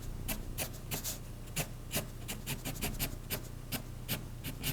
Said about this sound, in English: You just want to rub this pastel in.